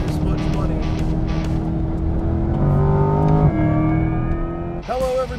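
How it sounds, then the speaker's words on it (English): A Chevrolet Corvette E-Ray hybrid all-wheel-drive sports car on the Thunder Hill West track, its engine droning steadily and rising in pitch as it accelerates, with a shift near the end and a voice talking over it. "This is the Corvette E-Ray, the first ever hybrid Corvette"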